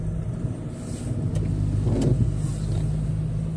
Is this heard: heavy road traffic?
yes